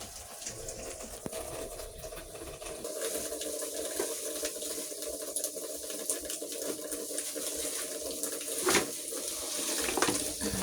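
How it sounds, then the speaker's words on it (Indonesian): Tap water runs steadily into a sink as raw chicken is rinsed for a lontong dish in a village kitchen, a continuous close splashing flow with small surges and no talk. "Nah, ayamnya dikumbah."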